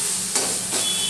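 Green chilies fry in a pan with a steady broadband hiss and sizzle, close and continuous, with two brief swells where the oil flares up.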